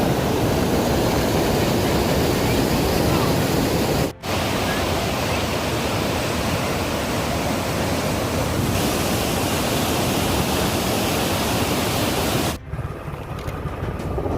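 Water released from the top of Vani Vilasa Sagara dam, the Mari Kanive dam in Karnataka, rushes in a loud, unbroken roar close by, with two brief dropouts and no talk.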